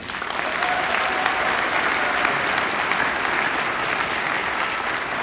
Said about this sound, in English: Let's give them a round of applause for these accomplishments.